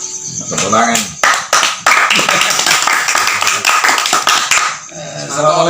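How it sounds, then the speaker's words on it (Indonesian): Applause breaks out at a café gathering after a song, a crowd clapping loudly and steadily with scattered taps, fading briefly before a voice begins speaking near the end. "Tepuk tangan."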